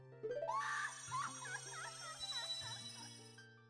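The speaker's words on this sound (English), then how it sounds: "just like how that scream reminds me of good old N64 days" A high, wavering scream from the Nintendo 64 game The Legend of Zelda: Majora's Mask rises sharply and then breaks into quivering, sliding cries over a low steady game tone, fairly quiet overall.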